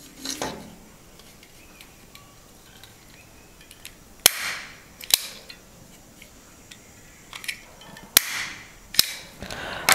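A stapler punching staples to fix a rubber band onto a homemade fabric face mask, giving four sharp metallic snaps spread over a quiet stretch with faint handling rustle between them.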